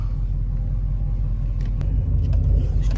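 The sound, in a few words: tow truck engine while driving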